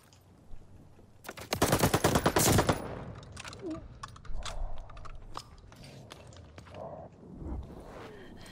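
An MP40 submachine gun in Call of Duty: Vanguard rips off a loud, rapid automatic burst of about a second and a half, followed by scattered single shots and clatter in the surrounding match.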